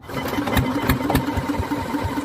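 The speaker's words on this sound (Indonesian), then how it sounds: "Nah ini mesin kompresor akan dinyalakan." A boat's air compressor engine used for diving, on an Indonesian mussel fishing boat, runs with a close, steady, rapid mechanical chugging and knocking.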